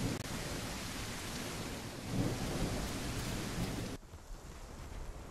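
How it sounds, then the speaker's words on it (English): Heavy rain pours steadily in the survival video game The Isle: Evrima, with a deep rumble of thunder swelling midway before the downpour drops to a quieter patter. "a survival game where apparently it never stops raining."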